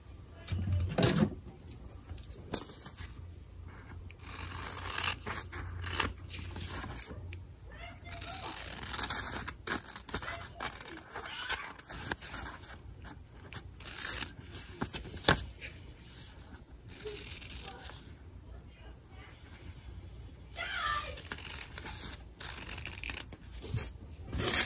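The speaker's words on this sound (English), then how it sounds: "Okay, I'm going to cut this out." Scissors cut out a face mask pattern, snipping and rustling paper or fabric in irregular, faint, close bursts over about twenty-five seconds with scattered handling noises.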